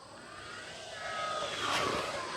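An FMS Fox 2.3 m RC glider plane flies overhead with a steady, rising motor whine. The whine swells toward the middle, then holds fairly loud and continuous, with no talk.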